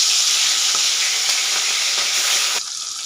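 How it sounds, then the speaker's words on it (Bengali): Hilsa fish frying in hot mustard oil, a dense continuous sizzle that drops slightly near the end, close and loud with no talking. "এবার আমি মাছগুলো একটা একটা করে ভেজে নেব,"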